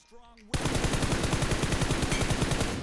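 Rapid automatic gunfire in the mobile battle-royale game PUBG Mobile bursts in after a brief quiet moment, a loud, fast, continuous stream of shots close up.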